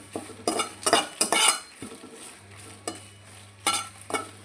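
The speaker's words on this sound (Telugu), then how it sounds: "అదే కప్తో ఎండమిర్చి కూడా తీసుకున్నానండి చాలా మంచిగా ఫ్రై అవ్వాలి" Dried red chillies frying in a pan, with repeated bursts of crackling sizzle and metal scraping as they are stirred, close and clear, with quieter gaps between stirs and a low steady hum beneath.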